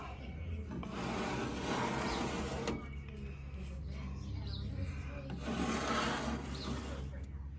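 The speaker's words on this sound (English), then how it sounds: "Just put the grease on the newspaper." Grease from a GrillGrates grill grate is wiped onto newspaper, giving close, soft papery rubbing and scraping strokes in uneven bursts with brief pauses.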